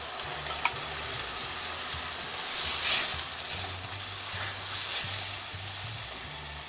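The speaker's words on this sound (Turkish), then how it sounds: "Suya kattığımız baharat karışımını soğanın üzerine döküyoruz." Spiced water poured over onions frying in a pan for chicken korma, giving a steady loud sizzle that flares up briefly midway, with faint stirring scrapes and no talk.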